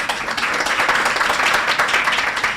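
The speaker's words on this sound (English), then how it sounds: "So please do give yourselves a round of applause." An audience at an outdoor investor showcase event gives a dense, steady round of applause, many hands clapping together loudly and continuously throughout.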